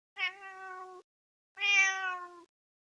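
Two long, loud meows from a nearby indoor cat, each about a second, with a short pause between them and no other sound.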